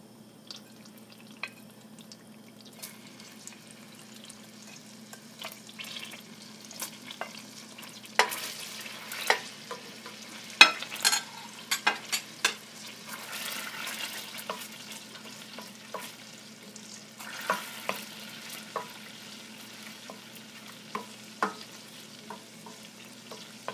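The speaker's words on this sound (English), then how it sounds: "now that the butter is melted, I am going to add the garlic next." Minced garlic sautéing in melted butter for shrimp scampi: a soft, low sizzle runs throughout, broken by sharp scrapes and clicks from stirring that cluster thickly in the middle and near the end, with no talking.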